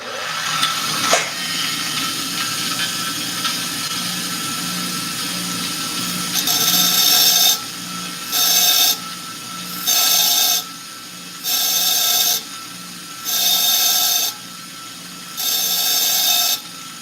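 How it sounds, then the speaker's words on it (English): A bench grinder sharpening a tungsten electrode: a steady motor hum, then six bursts of high, hissing grinding spaced about two seconds apart as the tip is pressed to the wheel, loud and close, with no voices. "Let's see how well it does grinding in tungsten."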